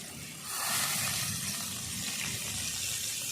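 Water poured into a pot of tamarind prawn curry, a steady soft gush starting after a brief quiet moment and running on evenly, fairly faint and without speech.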